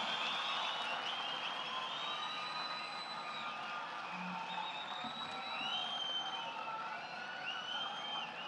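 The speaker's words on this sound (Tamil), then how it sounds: "இந்த கைத்தட்டெல்லாம் பத்தாது, ஒரு அரங்கம் நிறைந்த கைத்தட்டல் நமது குழந்தைகளுக்கும் வெற்றி தலைவருக்கும்" A full hall of spectators at an education award ceremony keeps up a dense, steady roar of clapping and crowd noise, with high whistles rising and falling above it, heard from some distance.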